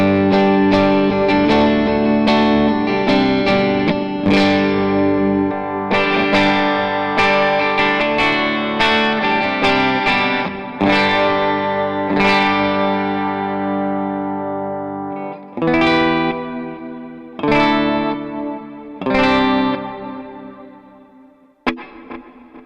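An electric guitar plays a rhythm part through Jet Revelation and Eternity overdrive pedals, giving a loud, saturated tone. Strummed chords ring and decay, then turn to sparser hits that fade out near the end.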